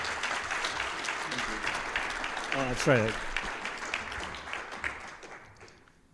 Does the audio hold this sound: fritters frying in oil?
no